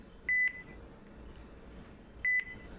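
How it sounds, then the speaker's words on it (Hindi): Two short, sharp electronic beeps from the red distress button on a marine VHF DSC radio, each lasting about a fifth of a second and spaced roughly two seconds apart over a quiet background hum. "तो जो वो बीप का साउंड आ रहा है ना"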